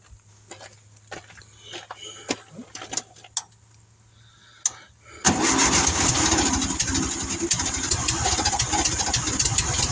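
Volkswagen Karmann Ghia engine cranked after several faint clicks and knocks, then catching into a loud, steady running rumble that continues to the end.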